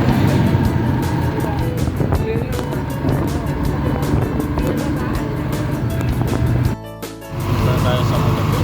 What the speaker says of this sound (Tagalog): nakasakay na ako sa tricycle at punta na sa gym.